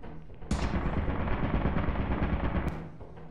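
Automatic turret fire in Lethal Company, one sustained burst of rapid machine-gun shots that starts abruptly and runs for about two seconds, loud and close, then cuts off, with no talking.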